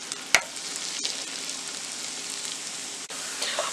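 Chopped onion fries in butter in a pan, giving a close, steady sizzle broken by a sharp clatter near the start, a couple of faint knocks later and brief stirring noise toward the end.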